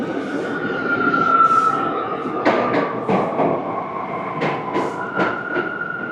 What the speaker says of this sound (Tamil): பாருங்கள், ட்ரெயின் வருது இப்போ.